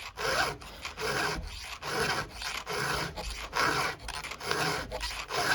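A hand file works a STIHL HEXA chainsaw chain in steady, rhythmic rasping strokes, about a dozen close scrapes separated by brief pauses.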